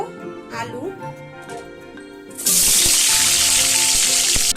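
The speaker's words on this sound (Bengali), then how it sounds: "তেলটা গরম হয়ে গেছে, এবার আমি দিয়ে দেব" Potatoes dropped into hot mustard oil in a kadai hit with a sudden loud burst of sizzling halfway through that continues steadily, after a stretch of quieter kitchen sounds.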